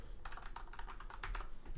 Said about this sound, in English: it might take a little bit for me to get my hands warmed up for typing